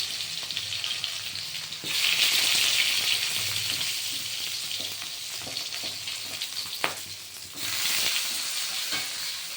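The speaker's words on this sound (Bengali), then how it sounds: "বেগুনটা লাল করে ভাজা হবে।" Eggplant slices frying in hot oil in a pan, a loud, dense hiss of sizzling that swells in bursts as pieces go in, with faint stirring clicks underneath.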